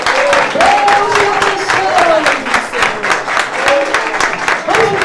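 A church congregation claps and applauds in rhythmic bursts, while a preacher's voice carries on over the crowd.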